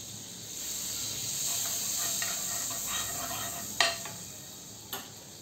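Bread with butter in a pan over low heat sizzles with a soft, steady hiss, followed by two sharp clicks or taps near the end, close by and with no talking.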